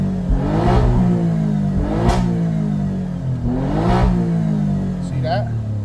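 An Alfa twin-turbo car engine with no rev limiter revs hard toward 7,000 RPM in repeated surging bursts, loud and close, with someone talking over the engine.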